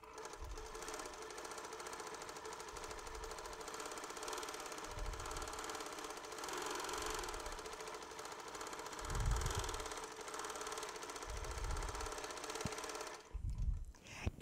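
A Baby Lock Gallant sewing machine stitches yarn onto fabric, its fast mechanical chatter running steadily and fairly close, with a few low thumps and a short stop near the end.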